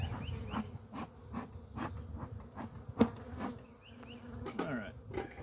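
A honeybee colony from a swarm trap buzzes steadily at close range while being moved to a new hive, its drone punctuated by a few sharp knocks and bumps of handling.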